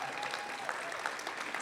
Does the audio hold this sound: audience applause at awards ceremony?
yes